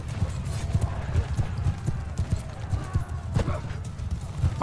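Masses of cavalry horses gallop in a Mount & Blade II: Bannerlord battle, a dense rumbling drum of hoofbeats with scattered clashes and an occasional whinny, loud and continuous throughout.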